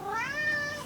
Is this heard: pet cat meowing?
yes